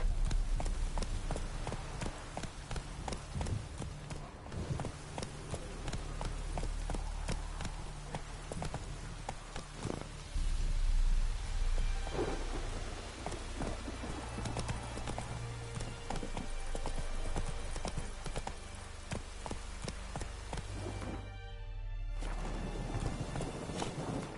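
A horse gallops in The Witcher 3, hooves drumming steadily with occasional snorts over a dense game soundscape, continuous and fairly loud throughout, with a brief dropout near the end.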